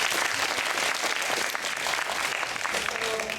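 A room full of listeners gives a loud, sustained round of applause after student performances in an English-language event, a thick, continuous patter of many hands close by.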